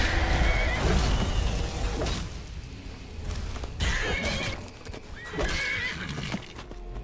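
A horse in the video game Skyrim neighs after being hit, with several loud whinnies and snorts over hoof clops and a dense, busy game soundscape.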